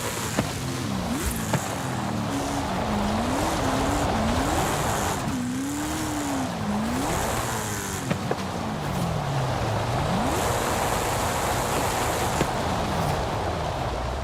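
A Nissan retro car in Forza Horizon 5, fitted with a loose tuning setup, drives hard with its engine note rising and falling as tires squeal through repeated slides, loud and continuous with no talking.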